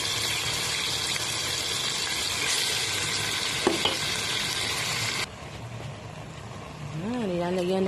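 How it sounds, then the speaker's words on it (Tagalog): Pork with onion and tomato sizzles steadily in a pan, a loud continuous fry that drops lower partway through, with a brief clatter and a voice speaking near the end. "ginigisa ko na po ang sibuyas at kamatis"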